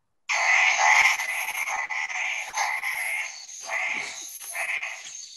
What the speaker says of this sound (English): I filmed that from probably about 10 meters from where the frogs actually were.